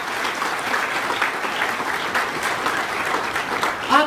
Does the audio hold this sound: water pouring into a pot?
no